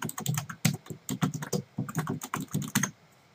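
Rapid typing of a name and organization on a computer keyboard during a Windows software installation, steady close clattering keystrokes for about three seconds, trailing off at the end, with no talking.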